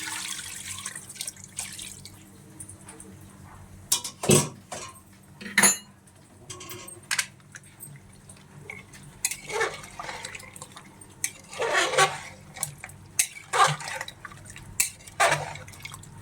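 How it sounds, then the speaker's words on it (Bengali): Hot water poured into a pot or pressure cooker in a home kitchen, heard as several short splashing bursts with pauses between them over a quiet background, with no talking. "গরম জল দিয়ে দিলাম।"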